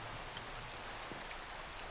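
Rain falling in Minecraft, a steady, even hiss of rainfall with no thunder, constant and moderately loud throughout.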